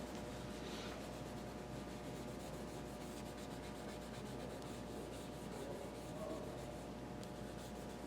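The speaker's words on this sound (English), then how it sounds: "I'm just using my eraser to kind of get a medium tone in this" An eraser scrubs back and forth across a charcoal drawing on paper, a faint, continuous dry rubbing with no voices.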